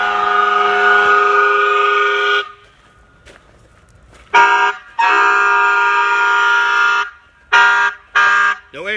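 Loud siren tones from a Powercall USB6100 MP3 100-watt siren amplifier, sounding in sustained blasts broken by short gaps and a few brief bursts, harsh and close, with no voices.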